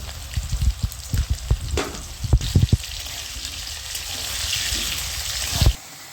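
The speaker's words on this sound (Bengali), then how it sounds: "আলুটা আমি লাল করে ভেজে নেব সামান্য লবণ দিয়ে নেব" Potatoes fry in oil in a pan with a little salt for a vegetarian cabbage ghonto, giving a steady close sizzle that swells louder toward the end, broken by a few sharp utensil knocks early on, then cuts off abruptly.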